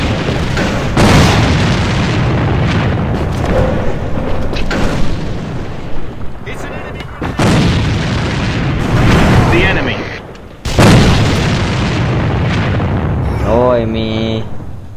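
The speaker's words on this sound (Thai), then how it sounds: "M4 เป็นปืนที่ยิงง่ายที่สุดในเกม" Rapid M4 rifle fire and heavy booms from the online shooter AVA come in dense, loud bursts separated by brief lulls, with a short electronic voice cue near the end.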